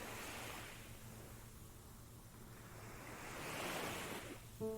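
Ocean waves wash steadily onto an island shore in a continuous, rushing surf that swells louder near the end, with no voices present.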